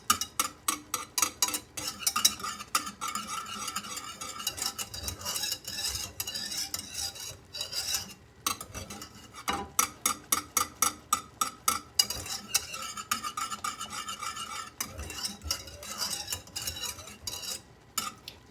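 A spoon scrapes and stirs through thick German chocolate cake icing of egg yolks and butter in a pot, giving steady rhythmic scraping strokes, close and fairly loud, running the whole time with no talk.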